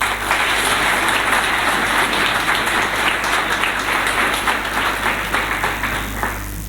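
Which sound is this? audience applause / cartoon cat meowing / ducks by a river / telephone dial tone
audience applause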